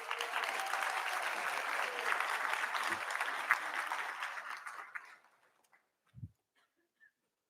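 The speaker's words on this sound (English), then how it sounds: "So feel free to shout out and cheer for your student." An audience at a dentistry school induction ceremony applauds and cheers in a steady loud wash of clapping that fades out after about five seconds, leaving a couple of faint knocks in near silence.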